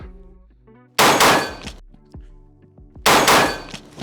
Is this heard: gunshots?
yes